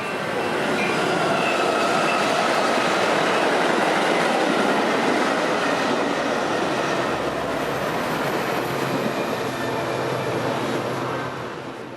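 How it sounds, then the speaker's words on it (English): A Metra express commuter train roars past a Chicago-area station at track speed, loud and continuous with rushing wheel noise, rhythmic clatter and faint squeal, fading slightly at the end. "yet another express train doing track speed"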